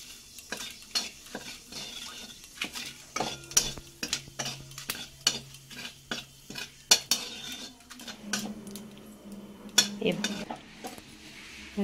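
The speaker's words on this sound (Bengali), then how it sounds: "আর দেব গোটা জিরে। ফোড়নটা একটু কিছুক্ষণ হতে দেব।" Whole cumin seeds, a dried red chilli and bay leaf tempering in hot oil in a pan for a vegetarian banana stem curry, with a soft sizzle under repeated close clinks and scrapes of a metal spoon stirring against the pan.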